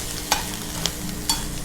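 Food fries gently over low heat in homemade garlic coconut oil, a soft steady sizzle with a few light clicks of stirring, with no voices.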